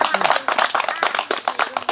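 Listeners at a literature lecture clap in a quick, uneven burst of sharp handclaps, close and lively, as voices talk alongside.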